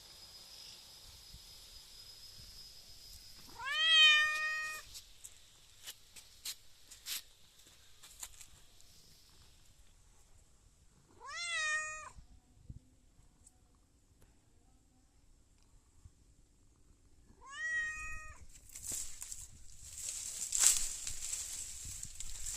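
A cat meows three times, each a short rising-and-falling cry spaced several seconds apart, fairly close and moderately loud over a quiet room hiss.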